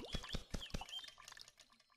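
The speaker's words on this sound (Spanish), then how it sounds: "Suena como que alguien está tomando agua." Wet dripping and gulping water sounds in the video game Cube World, like someone drinking: several quick, close plinks in the first second, then fading into quieter scattered drips.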